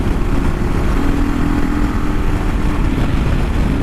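Constant loud wind-buffeted drone from a single-cylinder 40-horsepower Kawasaki KLR 650 motorcycle cruising on county roads, a steady engine hum under heavy wind noise with no pauses.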